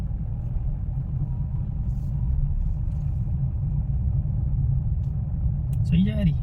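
Car engine accelerating during a driving lesson on a single road, a steady low rumble that swells slightly in the middle, with a brief higher tone near the end.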